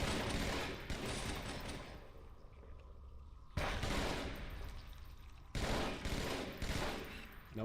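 Rapid bursts of automatic gunfire in Halo 2 come in three dense volleys, separated by quieter gaps of lingering echo and rumble.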